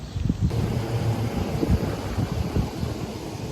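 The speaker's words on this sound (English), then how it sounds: "It's got some wind this morning" Steady wind buffets the microphone at Erie Canal lock number 2 on a morning out on the water, a constant low roar with gusty thumps throughout.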